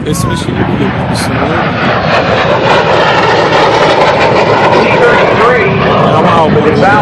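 A T-33 jet airplane powered by an Allison jet engine roars at the 2014 Houston air show, making a loud, continuous, rushing engine noise throughout, with a public-address voice talking over it.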